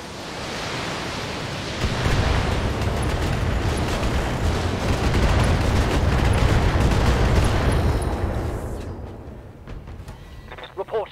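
Every weapon on a mech in Battletech fires at once, a dense, loud roar of blasts and explosions sustained for several seconds before tapering off into quieter crackles and a few sharp late bursts.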